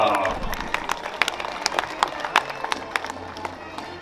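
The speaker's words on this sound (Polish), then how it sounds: "Wielkie brawa!" Scattered crowd applause for a museum director at an outdoor festival gathering, fairly soft with distinct individual claps standing out over murmuring voices.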